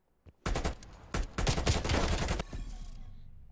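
Rapid bursts of automatic gunfire in a video game ring out loud and close, several volleys chained together in quick succession, with no talk over them.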